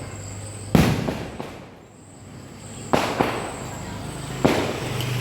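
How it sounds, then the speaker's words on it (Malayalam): Fireworks and firecrackers burst at a church festival, three sharp loud bangs spaced a second or two apart with crackling tails and a murmuring crowd in between. "നല്ല വെടി നല്ല പടക്കം പൊട്ടലും ഒക്കെ ആയിരുന്നു കേട്ടോ ഇതേ ഇപ്പോൾ ഇപ്പോൾ പൊട്ടും"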